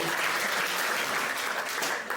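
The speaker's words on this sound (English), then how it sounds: "Clap it up for Philip O'Berry." A comedy club audience at the Stage Door Theater in Charlotte claps in a brief, dense burst of applause, fairly distant and steady throughout.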